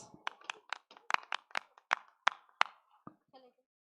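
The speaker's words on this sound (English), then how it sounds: "Let's appreciate them with a warm round of applause" Clapping at a high school performance event: a few close, sharp, individual handclaps in a loose uneven rhythm, about a dozen distinct claps over a few seconds rather than a full crowd ovation.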